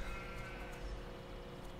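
Sheep bleat amid steady background hum in the farming video game Farming Simulator 17, a continuous droning bleat lasting under two seconds.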